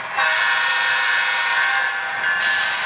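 A Scaletrains CN ET44AC Tier 4 GEVO model locomotive sounds its horn, a loud sustained electronic multi-tone blast held for nearly three seconds from a small speaker close by.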